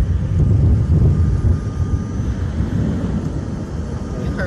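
Thunder rolls during a June storm near the sea, a loud, deep rumble that swells at the start and stays as a sustained low roar through the whole stretch, with no talking.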